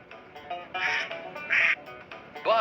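A few ducks quack on a pond in short, loud, nasal bursts, clustered together and heard up close.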